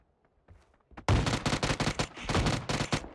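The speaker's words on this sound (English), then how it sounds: "I hit him once with a shotgun" Rapid gunfire in a video game, a dense burst of loud repeated shots lasting about two seconds after a few faint clicks.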